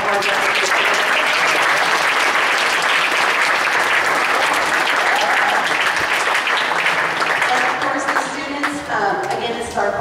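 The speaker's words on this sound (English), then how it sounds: "Let's give them a big round of applause for all the hard work." An audience at a school's final music concert applauds: loud, dense clapping fills the whole stretch, thinning slightly near the end as individual claps stand out.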